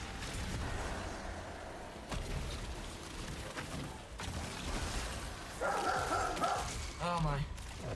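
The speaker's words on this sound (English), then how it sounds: "Ignore my dog." A pet dog barks indoors, giving a few sharp yips and woofs near the end over ongoing background noise. Sounds from a game stream fill the room around it.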